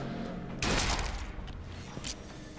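Gunfire in a first-person shooter, a sudden loud blast followed by a short burst of crackling shots and a final sharp report over a constant background hum.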